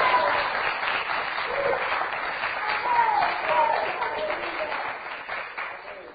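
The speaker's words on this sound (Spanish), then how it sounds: "¡Era un aplauso al Señor!" Congregation applauding during a Spanish-language church sermon, a steady wash of clapping from many people, moderately loud and somewhat distant, with a voice faintly audible underneath.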